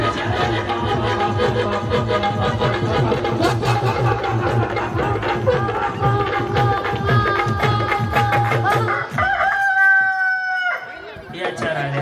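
Several women imitate chicken clucking in quick repeated bursts during a Home Minister Paithani game show in Malshiras, over a noisy crowd, with a high-pitched crowing-like call near the end.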